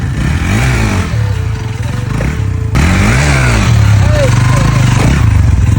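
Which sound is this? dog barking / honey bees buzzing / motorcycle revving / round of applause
motorcycle revving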